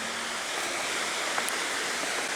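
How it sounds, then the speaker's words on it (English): Water flowing in a creek out in rural Kansas, a steady broadband rush with no breaks, moderately close and alone, with no voices over it. "I hear the water"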